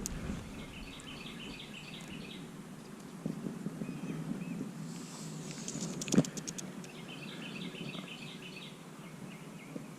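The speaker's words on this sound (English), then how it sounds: "Listen to those birds." Birds chirping and calling in the background while kayak fishing on Lake Norman, North Carolina, repeated bright trills over a steady outdoor rumble, with one sharp knock partway through.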